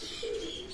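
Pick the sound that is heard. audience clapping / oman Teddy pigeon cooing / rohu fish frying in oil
oman Teddy pigeon cooing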